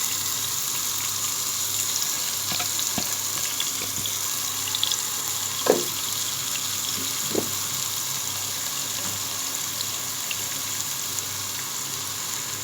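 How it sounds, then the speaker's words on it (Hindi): Chopped onions frying in half a cup of hot oil, a steady broadband sizzle throughout with a few brief clinks and pops standing out near the middle. "जब ऑयल गर्म हो गया तो हम इसमें चॉप की हुई प्याज डालेंगे।"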